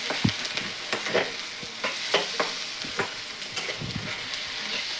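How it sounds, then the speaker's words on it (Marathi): Cumin, mustard seeds, onion, tomato and curry leaves frying and being stirred in a pan while browning, a steady sizzle broken by irregular scraping clicks of the spoon, close and moderately loud with no talk. "पास्त्यासाठी आपण टाकलेलं आहे जिरं, मोहरी, कांदा, टोमॅटो, कढीपत्ता. मस्त ब्राऊन असं भाजून घ्यायचं"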